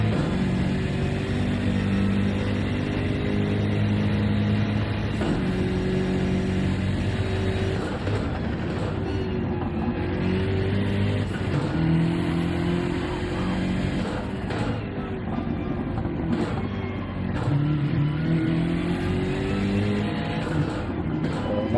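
Race car engine heard onboard at the Nürburgring 24 Hours on the Nordschleife, a loud, steady roar with rising and falling pitch through gear changes and throttle lifts, continuous and close throughout.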